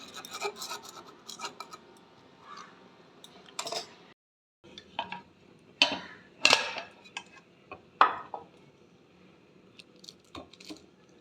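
A utensil scrapes around the sides of a warm carrot cake in its tin, a series of short rasping, scratchy strokes with metallic clinks, close and fairly quiet, separated by brief pauses.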